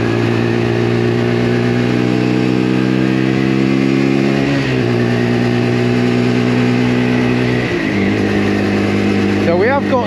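A Lexmoto LXR 125 motorcycle accelerates toward 40, its loud, close engine whine rising in pitch, dipping at two gear changes and climbing again after each.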